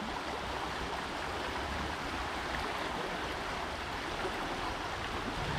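Steady stream water flowing at Fazenda Ipanema in Iperó, a continuous broadband rush with no breaks, moderately loud and close, running alone without talk.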